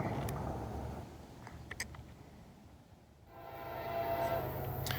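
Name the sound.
southbound CSX freight train passing with horn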